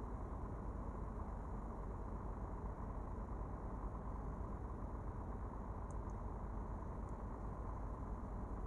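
Mercedes Axor truck engine in the driving game Truckers of Europe 3 holds a steady low drone at cruising speed, quiet and continuous with no acceleration changes, heard alone.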